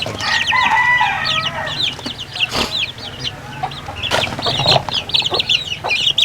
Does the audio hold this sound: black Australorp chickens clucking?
yes